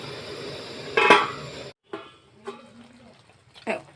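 A cooking pot of telakuchi greens chorchori with potato and stems gets covered with its lid: one brief clattering knock near one second over faint kitchen background, then a few soft clinks.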